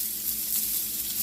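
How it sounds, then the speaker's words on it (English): Salmon rubbed with seasoning sizzles steadily on a grill, infused with pineapple and cilantro; a brief, even hiss with no talking. "Now I got it on the grill and I'm infusing it with pineapple, cilantro, and all of that."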